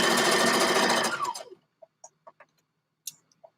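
A sewing machine stitches a dress seam with a fast, steady whir for about a second and a half, then stops, leaving faint chicken clucks in the quiet.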